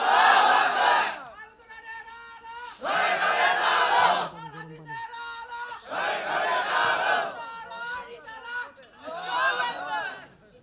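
A crowd at a Bangladeshi religious gathering chants the takbir in call-and-response bursts, four loud massed shouts separated by a lone voice leading each call.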